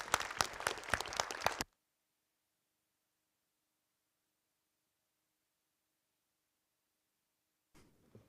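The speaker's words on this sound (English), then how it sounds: "Big applause." Audience applause in a conference room, a dense burst of clapping that stops abruptly after under two seconds, followed by near silence.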